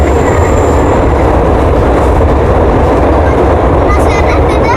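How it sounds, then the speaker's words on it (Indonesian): A train rumbles steadily past nearby, a loud continuous roar of wheels on rails with faint clatter throughout. "Tuh ada kereta lewat sobat tuh."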